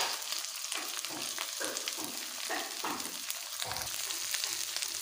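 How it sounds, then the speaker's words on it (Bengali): Spice paste of chilli, cumin and ginger frying with poppy seed paste, salt and turmeric for aloo potol kosha, a dense, loud, steady sizzle and crackle with soft stirring strokes throughout, no voice. "মশলাটাকে ভালোভাবে কষে নেব"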